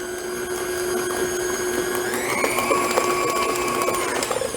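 Electric mixer blending lemon lime Oreo cookie cake batter, a steady close whir with a sustained tone that rises in pitch midway as the load changes, running alone without talk.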